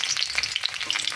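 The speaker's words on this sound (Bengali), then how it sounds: "তার জন্য আগে পটলগুলো তেলে ভেজে নেব।" Pointed gourd frying in hot oil for a simple potato-and-gourd dish, giving a steady close crackling sizzle with sharp pops scattered throughout, no voices.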